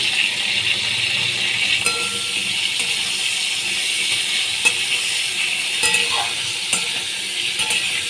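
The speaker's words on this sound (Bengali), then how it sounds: "ফুলকপি আর আলু আমি একসঙ্গে ভেজে নিচ্ছি" Cauliflower and potatoes with a little turmeric frying together in a pan give a continuous bright sizzle, with occasional scrapes and clinks of stirring and no talk.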